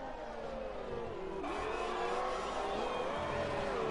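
A Formula 1 race car engine in the F1 2020 video game at the Mexico City Grand Prix, a loud continuous whine that rises and falls in pitch as the throttle and gears change, with no talk over it.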